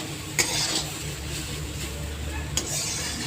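Potatoes and bottle gourd peel stirred with turmeric in a frying pan, a steady soft sizzle with scraping spoon strokes and a couple of sharper clicks against the pan.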